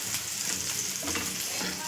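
Brinjal frying in a pan over a low gas flame, giving a steady, close, continuous sizzle with occasional soft bursts throughout.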